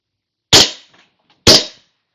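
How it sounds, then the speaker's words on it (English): An FNX 45 airsoft pistol fitted with a suppressor fires two sharp, close shots about a second apart, each with a brief tail, in otherwise silent surroundings. "silencer on the FNX airsoft pistol actually works. There you go. Pro on, shoot at where the tape is."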